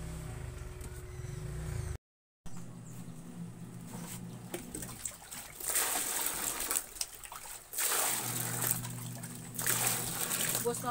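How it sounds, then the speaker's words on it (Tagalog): Tap water running steadily into a container as water is being collected at home, a broadband splashing rush with brief pauses, close and fairly loud, with people talking faintly at times. "Nag-iipon po kami ng tubig"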